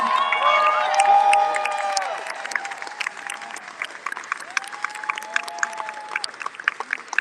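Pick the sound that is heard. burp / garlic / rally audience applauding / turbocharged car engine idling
rally audience applauding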